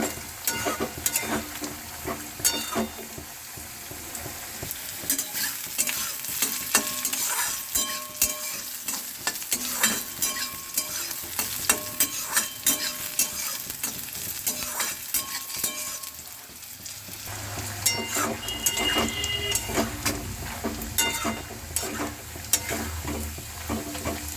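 Vegetables sizzle steadily in a hot pan as potatoes are stirred in, a utensil scraping and stirring repeatedly, the frying continuing throughout at close range.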